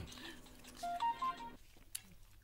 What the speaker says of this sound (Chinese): 哎，电话响嘅。